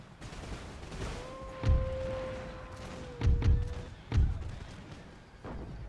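Musket volleys in an Imperial Splendour battle as Prussia, several dull booming bursts scattered over a few seconds, over a sustained tonal drone and background battle noise.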